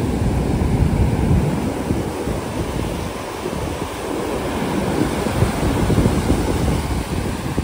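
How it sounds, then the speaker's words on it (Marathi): Ocean surf rolls steadily onto Tondavali beach near Malvan, a continuous loud wash of breaking waves with wind buffeting the microphone throughout, no voices present. "आज आपण तोंडवळी समुद्र किनाऱ्यावरून पाहतोय"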